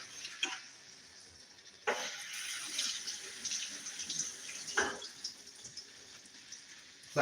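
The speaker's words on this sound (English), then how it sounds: "I'm about to rinse these off." Tap water runs steadily into a sink while fresh strawberries are rinsed beneath it, with a continuous close splashing hiss broken by a few louder gushes and drips.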